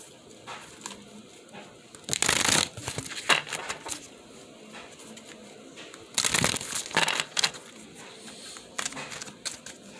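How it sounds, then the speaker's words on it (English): A card deck being shuffled for a card reading, in two brisk riffling bursts separated by quieter handling and light rustling, close by. "Let me shuffle over here so it doesn't make me get it from the ground."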